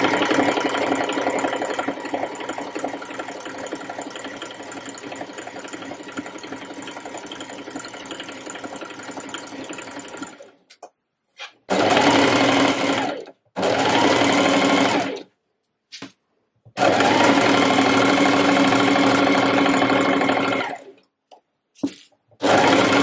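A sewing machine runs while stitching a reversible button front dress, one long continuous run followed by several shorter bursts separated by pauses, close and steady, with no talking.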